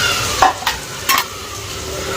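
Bitter gourd (karela) slices fry in plenty of oil with a loud continuous sizzle, broken by a few sharp spatula scrapes and clinks close up.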